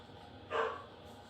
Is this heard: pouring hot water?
no